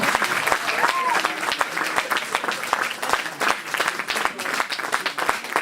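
Applause from a crowd after a mayor's post-election speech in Château d'Olonne is loud and sustained, with sharp individual claps standing out against the dense clapping.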